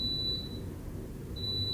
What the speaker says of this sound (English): It's my baby's bottle warmer.